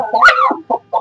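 A hen guarding newly hatched chicks lets out a loud, close, harsh cluck followed by two shorter clucks, with nothing else heard.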